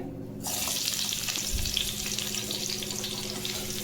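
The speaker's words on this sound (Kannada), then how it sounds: "ಇದೇ ಆಯಿಲ್ಗೆ ಈರುಳ್ಳಿ ಹಾಕೋತೀನಿ" Three medium onions land in hot oil for a chicken liver fry, bursting into a loud, steady sizzle that holds for the rest of the clip, with a brief stir partway through and no talking.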